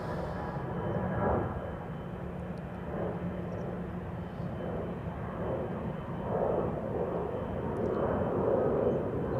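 Airliner departing from Amsterdam Schiphol's center runway for Milan, its engines a steady broad roar that builds and swells across the clip with no voices.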